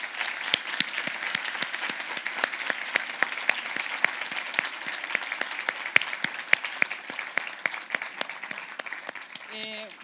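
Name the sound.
audience applause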